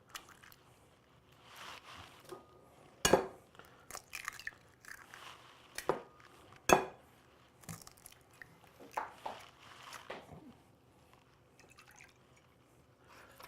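Three eggs and about half a cup of milk whisked together in a bowl for egg wash, with soft wet sloshing and squishing and a few sharp taps against the bowl, close and quiet, no voices.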